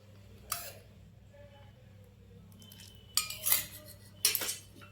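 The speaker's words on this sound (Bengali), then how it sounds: "ভালো করে ফেটিয়ে নেব সব মশলাগুলো" Dhokla batter seasoned with salt, cumin, ginger-green chilli paste, sugar and white oil is beaten in a bowl, a few sharp metallic clinks of a spoon against the bowl in short bursts over a quiet background.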